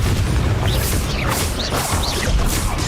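Confringo and Bombarda spells explode again and again in the game Hogwarts Legacy, a run of loud booming blasts with crackling bursts and whooshing magic that fills the whole stretch.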